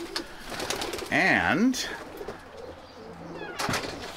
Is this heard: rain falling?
no